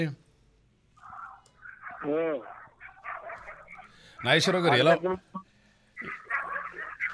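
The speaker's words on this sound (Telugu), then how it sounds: "మీ పక్కన ఏంటి సార్ మీకంటే ఎక్కువగా కుక్కలు మాట్లాడుతున్నాయి" Dogs bark near a caller on a telephone line into a radio talk show, giving a few loud, close bursts between stretches of conversation.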